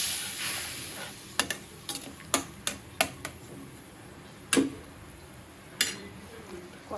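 Fish frying in a pan with turmeric, chili, coriander, cumin, salt and tomato: a steady close sizzle, broken by sharp scattered clicks and taps from a stirring utensil against the pan.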